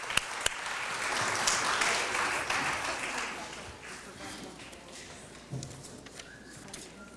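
Audience applause at a children's book award ceremony swells for the authors, a steady wash of clapping that gradually fades, with a few voices faintly in the room.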